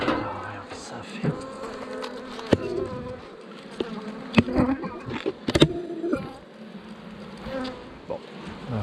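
Honey bees hum steadily around an open beehive during a linden honey harvest, a close, continuous buzz broken by sharp knocks and clatters from handling the hive.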